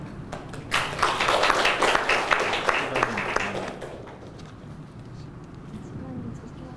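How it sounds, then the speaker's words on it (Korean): An audience at a forum on migrant workers claps to welcome a lawyer to the podium, a short burst of moderately close applause lasting a few seconds before fading into room noise. "그럼 큰 박수로 조영관 변호사님을 발제를 모시겠습니다"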